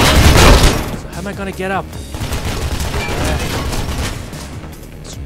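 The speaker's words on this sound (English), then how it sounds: "they have a goddamn machine gun" Machine gun fire in the video game Mirror's Edge, dense and loud during the first second, then continuing as a busy rattle of gunfire and impacts beneath someone speaking.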